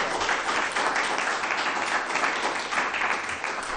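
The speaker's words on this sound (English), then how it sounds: "could we please have a round of applause for all of our participants?" Continuous audience applause for participants at a how-to-run-for-office event, a dense, even wash of clapping lasting throughout with no pauses.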